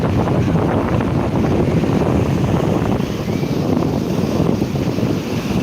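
Rough sea waves at high tide on Digha beach make a loud, continuous broadband roar and wash, buffeted by wind noise on the microphone, with no voices.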